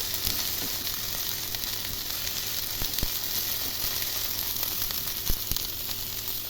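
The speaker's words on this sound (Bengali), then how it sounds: "টমেটোগুলোকে রোস্ট হওয়ার জন্য একটু করে দাগ লাগবে, তারপরেই আমি উল্টিয়ে দেব।" Whole tomatoes roasting in a hot kadai for homemade chicken momo sauce give a steady, close sizzle with faint pops and crackles, alone and continuous throughout.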